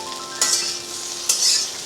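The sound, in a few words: frying okra (bhendi) in a pan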